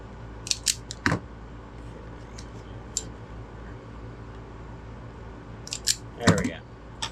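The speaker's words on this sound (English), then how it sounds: "Let's go ahead and cut it out right here and strip it out right there." Small electrical wire being cut and stripped with hand tools while building a battery box, heard as a few sharp close snips and clicks in scattered bursts over quiet room tone.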